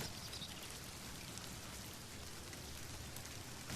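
Steady, even rain in The Excavation of Hob's Barrow, a dense continuous hiss of drops falling on surfaces, heard alone at moderate level without speech.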